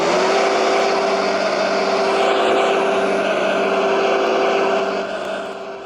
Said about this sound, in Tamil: நம்ம இன்ஜின் ரைஸ் பண்ண சவுண்டு கேட்குறீங்கன்னு நினைக்கிறேன்.